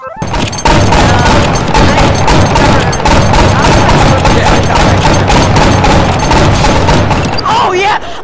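Flintlock guns fire in the video game Flintlock Mayhem as a loud, dense, rapid string of sharp gunshots and booms that runs almost without pause before cutting off near the end.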